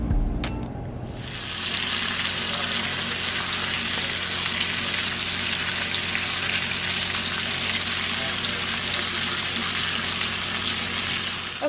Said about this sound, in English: Okay, I browned up the beef short ribs